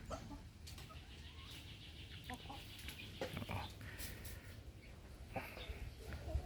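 Chickens in a poultry coop, with soft clucks and scattered calls over a steady low rumble, plus brief flutters and rustles, mostly at a moderate distance.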